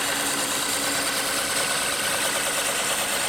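A tool cuts a bevel on a wooden stave drum shell, giving a dense, steady scraping and shaving hiss that runs continuously at close range without pauses or talk.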